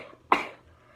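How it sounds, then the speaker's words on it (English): A single sharp sneeze bursts out close by, a short explosive broadband blast that trails off quickly against a quiet background. "sorry guys, just had to sneeze"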